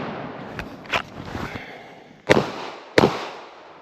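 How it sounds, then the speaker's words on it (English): Pistol shots are fired at range targets from concealment: two sharp, loud cracks about a second apart near the end, preceded by softer rustling, clicks and a muffled thump. "Again, 1 shot on each target from concealment."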